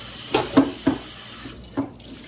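A tomato is rinsed under a running kitchen tap, the water splashing softly with a few brief louder spatters as the fruit is turned in the stream.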